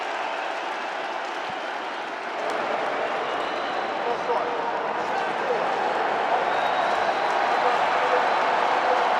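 Stadium crowd at a Syracuse vs Liberty college football game, a steady, loud roar of many voices building slightly on third down, sustained and unbroken throughout with no distinct individual sounds.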